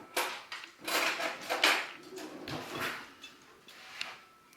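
Spoon and cutlery clatter while being taken from a kitchen drawer during shrimp street taco prep, with several close metallic rattles and a drawer slide in quick succession.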